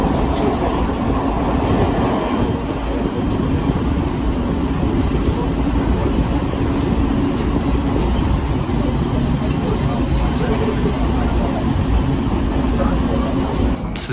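Steady rumbling and rattling of the Nebuta Liner special rapid train of the Aoimori Railway, heard from aboard as it runs through Kominato station without stopping, with a constant loud roar and light clacking and a voice talking underneath.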